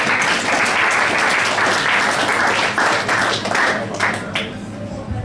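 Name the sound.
applause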